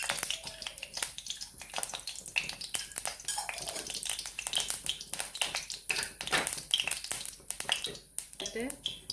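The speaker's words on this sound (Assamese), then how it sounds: "ইয়াতে পিঁয়াজ দি দিছোঁ, 2টা তেজপাত দিছোঁ, কেঁচা জলকীয়া 2টা আৰু অলপমান দালচেনি আৰু এলাচি কেইটামান দিছোঁ ইয়াতে" Onion, two bay leaves, green chillies, cinnamon and cardamom crackle and spit in hot oil in a wok on a gas stove, a dense close sizzle with sharp pops throughout, with a voice talking over it.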